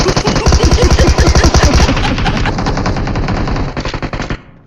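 Automatic gunfire in the battle royale game BGMI, a loud, fast stream of close shots in a tight rhythm lasting about two seconds, followed by further bursts and echoing fire that fade near the end.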